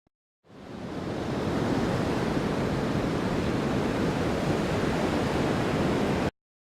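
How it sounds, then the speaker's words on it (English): A theatre wind sound effect plays as a steady, broad, rushing noise that fades in and holds evenly for about six seconds before cutting off abruptly, with no voices. "the wind sound effect we've selected is too menacing for the context of the scene."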